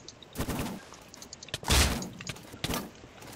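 Gunfire in a Minecraft war video game: a few loud, close bursts of shots separated by short gaps, with a heavy booming hit in the middle, over steady game background noise.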